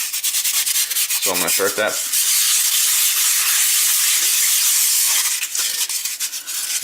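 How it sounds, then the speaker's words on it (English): Rough, hissing strokes of a roll of emery cloth sandpaper rubbing against a climbing hold being shaped, a few quick scrapes then a long continuous rasp, close and loud, with a brief spoken phrase at the start. "I've got this roll of sandpaper, emery cloth, I think is one of the terms."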